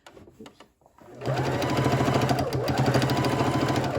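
A sewing machine stitches binding onto a quilt near a corner. A few soft handling taps come first, then a loud, fast, steady mechanical rattle of stitching runs to the end.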